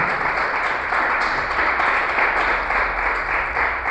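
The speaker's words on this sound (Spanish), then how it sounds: "Si vas a aplaudirle al Señor," A church congregation applauding together, a dense, steady wash of clapping that stays loud and even throughout with no pauses.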